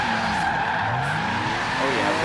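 Sustained tire squeal from drifting cars in Forza Horizon 3 tandem runs, a continuous screeching skid over droning engines, loud and steady throughout.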